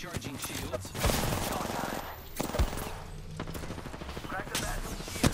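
Enemy gunfire in Apex Legends rattles in dense bursts of rapid shots over busy game noise, sustained for several seconds with louder cracks scattered throughout.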